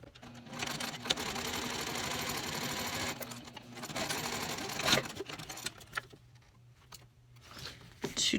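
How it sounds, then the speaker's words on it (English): A sewing machine stitches a small canvas tote bag with heavy Tex 80 thread at a 4.5 stitch length, its steady, close whirring running in long bursts with brief pauses and a faint background hum between runs. "I will be stitching at a 1/4 inch seam allowance unless I'm top stitching,"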